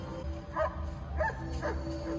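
Dog barks from the animated film Coco, several short yipping barks at a steady pace over a constant low film soundtrack, moderately loud and close.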